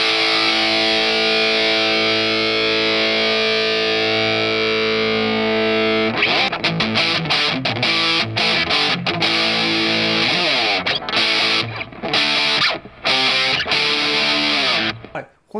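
An electric guitar through a BOSS JB-2 Angry Driver pedal set for high gain rings out a long, heavily distorted sustained chord, then breaks into loud, tightly chugging palm-muted riffs with sharp stops.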